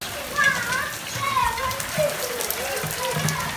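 Rain falls during a storm on a flooded lane, a steady wash of drops beneath nearby voices and children calling.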